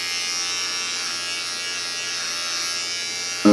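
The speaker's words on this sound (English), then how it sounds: "Okay, it's just a little quick shave." Electric razor buzzing steadily through a quick neck shave while trimming around a beard, a close, continuous high whine lasting a few seconds before a voice cuts in at the end.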